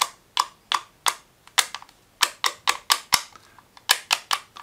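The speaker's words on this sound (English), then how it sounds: "You're gonna get a nice clicking sound." Sharp mechanical clicks from the ball plunger detent in an AuthentiKit P-51D Mustang cockpit pedestal, about twenty distinct near clicks in irregular bursts, some quick pairs and triples, with no talk.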